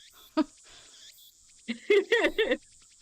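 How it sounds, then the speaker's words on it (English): Cicadas drone in the visual novel game Steins;Gate, a steady high-pitched summer buzz running throughout, with a few louder harmonic chirping bursts on top. "Ugh, cicadas. Be quiet."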